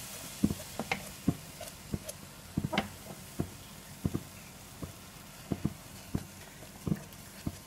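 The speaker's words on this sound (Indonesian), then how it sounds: "kita masukkan susu cair sedikit demi sedikit sambil diaduk" A spoon or whisk works a cooked flour roux in a pan as liquid milk is added little by little, giving steady, close scraping taps at an even rhythm over a quiet sizzle, with no talking.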